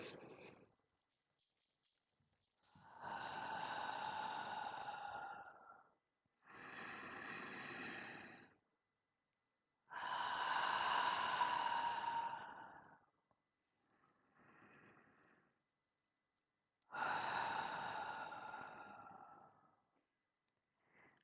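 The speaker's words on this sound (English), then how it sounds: "please close your eyes and let's take 3 deep breaths together" A group takes slow deep breaths together, several long soft inhales and exhales separated by quiet pauses, faint and close with no talking.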